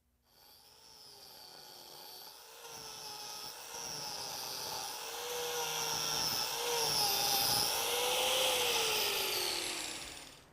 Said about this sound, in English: we put the turbo scraper to the test. We put it up against a maple burl.